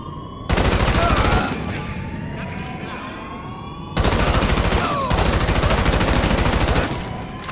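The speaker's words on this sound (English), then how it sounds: "Oh, I got shot at." Gunfire in Grand Theft Auto 5 during a prison break heist comes in two loud bursts of rapid automatic shots, each lasting about a second, with a siren wailing faintly between them.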